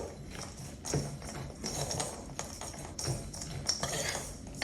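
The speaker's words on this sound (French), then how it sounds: "maintenant que j'ai concassé mes noix et mes amandes, je vais mélanger pour le coup à la cuillère" A spoon clinks and scrapes in a bowl while stirring crushed walnuts and almonds for homemade granola, a string of close, uneven taps and knocks with no talking.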